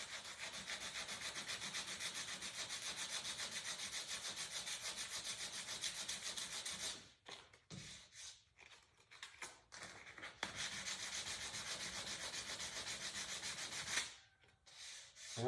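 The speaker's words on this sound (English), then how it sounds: "I'm gonna try the 220 on this part here" Paint on a Sea Snark sunflower being sanded with 220 grit sandpaper to remove a run, a close continuous rasping rub in long strokes broken by a few short pauses.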